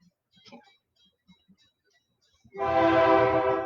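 A train passes nearby after a stretch of near-silence, its loud, sustained rumble and tonal horn-like drone starting abruptly and filling the rest of the clip.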